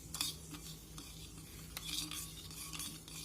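A spoon briskly stirs sugar and yeast in a bowl for doughnut dough, giving soft close scraping and light clinks in quick strokes, quiet and alone.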